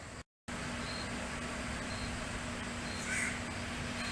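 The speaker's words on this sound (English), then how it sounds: "Can you hear that bird over the fan?" A bird calls faintly in the distance, a few short caws under the constant whir of a fan close by.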